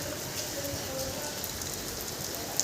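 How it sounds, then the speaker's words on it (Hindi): Rain falls steadily on nearby surfaces, a dense even hiss of drops with a faint tonal hum in the background and one small sharp tap near the end, with no talking. "तो गाइस अभी तक बारिश का आनंद उठाओ।"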